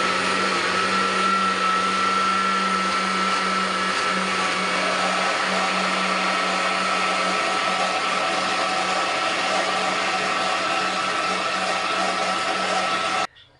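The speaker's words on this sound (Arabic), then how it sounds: "وهضربهم بقى يا قلبي في الخلاط" An electric blender runs continuously, whirring steadily as it mixes powdered milk for chocolate biscuits, a loud close motor hum with a steady pitch that cuts off abruptly at the end.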